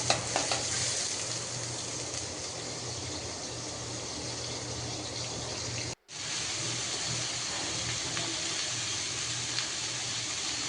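Beans and potatoes frying in a pan with dried chili, giving a steady, dense, close sizzle that stays loud throughout apart from one brief dropout.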